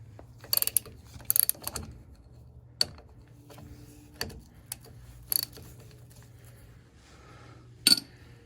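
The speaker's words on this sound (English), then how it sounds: "Use a breaker bar, ratchet, whatever you want to use, and we're just gonna break it loose." A 3/8-inch drive ratchet clicks in short bursts while loosening the rear differential plug on a 1990s Ford Ranger, sharp metallic ratcheting spaced apart amid quiet workshop background.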